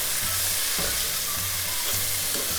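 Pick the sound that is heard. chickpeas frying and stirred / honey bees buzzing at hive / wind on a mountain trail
chickpeas frying and stirred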